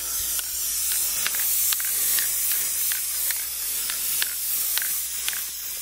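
Aerosol spray can hissing in a steady broadband stream, with repeated short bursts and faint clicks as the nozzle is pressed, close and fairly loud.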